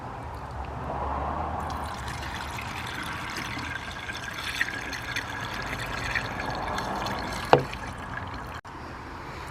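A mix of coolant and water is poured steadily into the cooling system of a Ford Ranger, a continuous close liquid pour and gurgle with a sharp clunk near the end.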